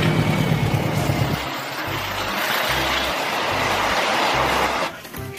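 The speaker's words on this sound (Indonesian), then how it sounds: "Wow, gerbong kereta api kargo." Cargo train wagons roll past in a loud, continuous rumble with a steady rhythm of low thumps from wheels crossing rail joints, fading abruptly near the end.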